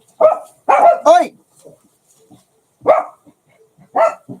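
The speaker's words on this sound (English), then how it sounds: "The dogs are playing. They're playing with each other." Two dogs bark in short bursts as they play together, with a quick cluster of three loud barks followed by pauses and two more single barks, close and clear with faint sounds between.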